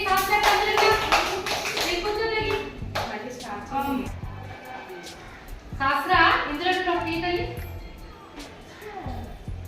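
Young children clap their hands in bursts of quick, uneven claps, mixed with an adult voice and children's voices talking in a room.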